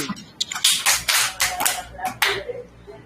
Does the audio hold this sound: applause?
yes